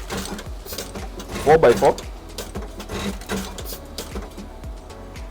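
A semen straw filling and sealing machine runs with a rhythmic mechanical clatter and a few louder clunks, while someone talks nearby.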